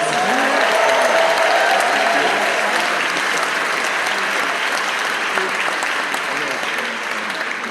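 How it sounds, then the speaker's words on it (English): A packed audience in a 101-year-old movie theater claps loudly and continuously, a dense wash of applause filling the hall that eases slightly toward the end. "Can we give it a round of applause?"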